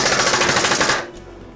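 A Senco SNS200XP construction stapler fires in rapid stitching mode, a loud, fast burst of mechanical shots at over ten staples a second that stops abruptly, leaving a fading room tail.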